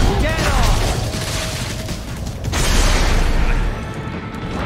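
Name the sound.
rocket launcher explosion in Metal Gear Rising video game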